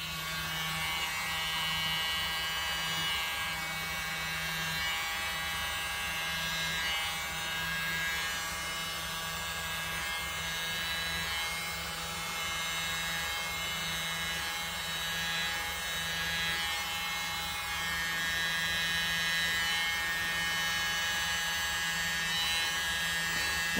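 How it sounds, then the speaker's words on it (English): A small hair dryer whirs steadily at close range, a constant high-pitched motor hum with no pauses throughout. "Little hair dryer this time."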